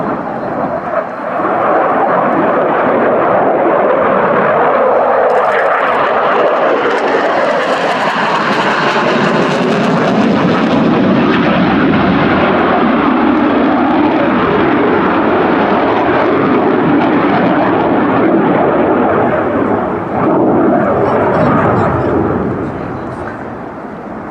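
Czech Air Force Saab Gripen C jet at an air show roars past as a loud, sustained, broadband rush. The sound swells and shifts in pitch as the jet passes, with a commentator talking over it.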